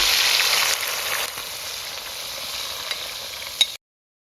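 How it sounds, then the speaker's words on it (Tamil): About 200 grams of washed dried anchovies frying in oil until golden, a continuous bright crackling sizzle that drops slightly in level partway through, with a sharp pop near the end before it cuts to silence. "இந்த நெத்தலி நல்லா பொன்னிறமாக பொரிஞ்சிச்சுது"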